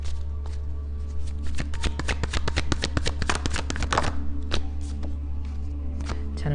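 Tarot cards being shuffled up close, a run of quick riffling and flicking snaps over a steady low hum, easing into softer card handling toward the end.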